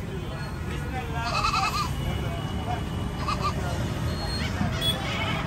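Goats bleat in short wavering calls, a few nearby, amid crowd chatter and continuous talk at a busy livestock market in Bangladesh.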